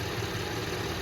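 A GMC Canyon truck with a 6L50 six-speed transmission idles, its engine giving a steady, even drone close by with no talk, during a transmission fluid change.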